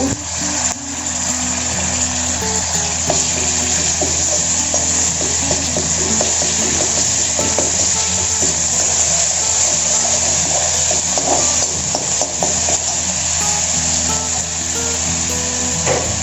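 Garlic and ginger paste frying in oil with asafoetida and curry leaves, a loud continuous sizzle that carries on throughout with scattered stirring clatter from the pan.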